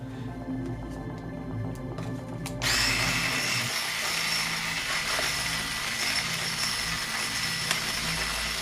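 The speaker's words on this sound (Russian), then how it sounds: "можно ее работающую окунуть в наш моющий раствор" A running electric razor buzzes steadily, then turns to a louder, broader hissing whir once it is dipped into washing solution and keeps running submerged.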